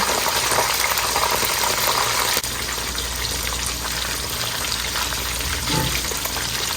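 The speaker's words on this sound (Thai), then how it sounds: "จะทอดตัวปลาก่อนเลยนะคะ" Tilapia fries in hot oil, a loud, continuous bubbling sizzle that roars throughout with a brief dip partway, no talk.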